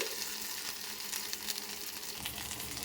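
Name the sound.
okra frying in a pan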